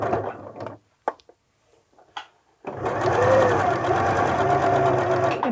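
Sewing machine stitching a dart in fabric, a few short bursts and pauses, then a long steady rapid whirring run that stays loud and close to the end.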